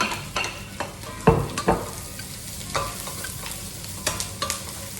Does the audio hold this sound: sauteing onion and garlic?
yes